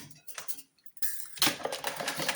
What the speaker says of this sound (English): And then 1 egg, I think, and give it a whisk.